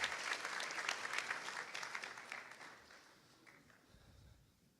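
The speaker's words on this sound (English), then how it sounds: "Round of applause for Talal." Audience applause at a school graduation ceremony starts strong with dense clapping from a large crowd, then gradually thins and fades over the last couple of seconds, with no voices.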